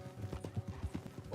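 Horses' hooves clip-clop in a steady rhythm on an approach off the road, with occasional snorts and low movement sounds, fairly close and moderately loud.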